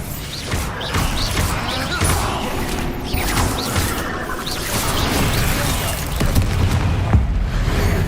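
A Bombarda spell explosion in Hogwarts Legacy bursts amid spider combat: dense, loud, continuous rumbling crashes and debris with repeated booms and clatter throughout, no voices.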